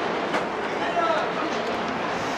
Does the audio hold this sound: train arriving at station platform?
yes